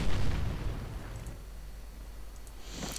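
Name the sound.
artillery shell exploding in a video game (Company of Heroes)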